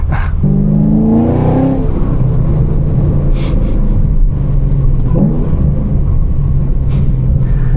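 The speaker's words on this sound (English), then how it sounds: "Had the downshift on the Miata." A Mazda Miata heard from inside a car rises in a loud, rising rev early on, then settles into a steady engine rumble with road noise, and brief sharp bursts punctuate it.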